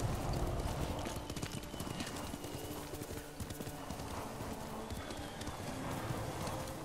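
A horse gallops in the Ghost of Tsushima video game, rapid hoofbeats pounding steadily and close under a dense wash of ambient game sound, with no talking over it.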